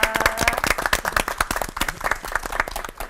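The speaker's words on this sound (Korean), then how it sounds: "세 분 목사님께 다 같이 감사의 박수." Audience clapping in a church television programme, thanking three pastors, with loud, close, rhythmic hand claps forming a lively, steady round of applause.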